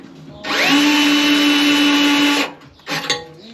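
Power drill boring into the body of a kit-built AC Cobra replica, ahead of tapping a thread into the chassis; a loud, steady whine holds for about two seconds and then stops, followed by a brief clatter.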